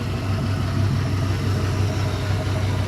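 A rebuilt LM7 5.3L LS V8 fitted with an LS1 cam idles steadily at operating temperature, a smooth continuous low rumble heard up close with no voices over it.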